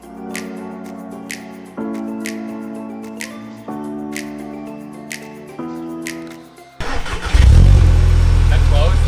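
A VW MK7 GTI fitted with an XForce valved exhaust fires up after a stretch of steady music, its engine catching and then holding a loud, deep, rumbling idle.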